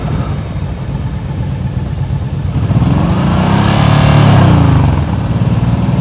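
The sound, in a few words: motorcycle engine held revved during slow riding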